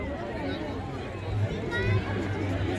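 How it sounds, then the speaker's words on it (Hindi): Crowd of visitors milling around an Army Day weapons exhibition, a steady low murmur of many voices and footsteps close by, with nearby speech over the general hubbub. "भीड़ देखिए आप, कितना बड़ा मौका है लोगों के लिए"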